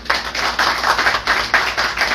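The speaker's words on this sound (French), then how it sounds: "Je vous demande d'applaudir le directeur de l'institution." An audience at a talk on the role of police in a democratic state applauds the institution's director, giving steady, moderately close clapping from a modest group with a brisk, even rhythm and no voices over it.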